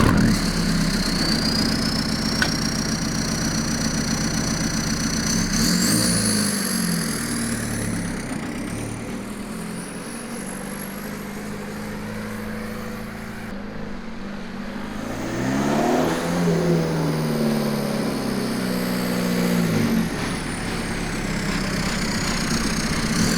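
A Volkswagen TDI turbo diesel swapped into a Ford Ranger idles steadily through a 3.5-inch side-exit exhaust tip, close and loud, with a couple of revs rising and falling midway; no voices.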